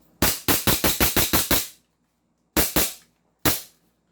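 A fully upgraded JWC PitViper airsoft pistol with a big bore nozzle fires a fast string of eight sharp, loud cracks, then two more shots after a pause and a final single shot, all close and free of talk.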